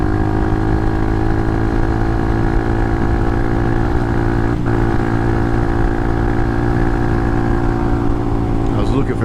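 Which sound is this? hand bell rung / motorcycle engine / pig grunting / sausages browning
motorcycle engine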